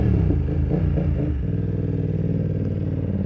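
BMW F900R parallel-twin motorcycle fitted with a Two Brothers aftermarket exhaust, idling and blipped: a few quick throttle revs at the start settle into a steady, deep, loud idle rumble close by.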